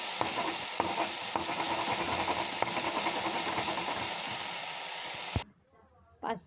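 Mixed leafy greens (pach shak) frying and being stirred in a pan, a steady close sizzle with periodic scraping stirs, stopping abruptly near the end before a brief faint voice.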